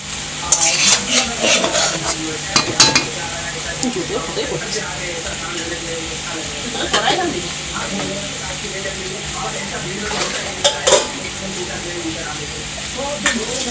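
Fried rice cooking in a pan on a gas stove, with stirring scrapes and clinks of utensils over a steady sizzle throughout, while people talk nearby.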